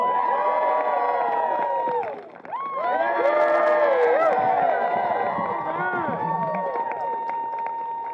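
An audience at a Renaissance Faire street show erupts in loud cheering and whooping, with many overlapping voices rising and falling and a little scattered clapping, dipping briefly before swelling again.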